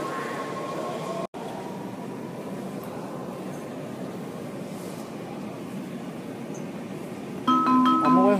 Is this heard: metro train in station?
yes